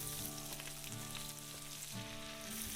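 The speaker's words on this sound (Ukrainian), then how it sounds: "обсмажуємо нашу грудинку з обох боків помішуючи до золотистої скоринки" Pork brisket fries in sunflower oil in a pan while it is stirred, a continuous dense sizzle that stays fairly soft and even throughout, with no voices.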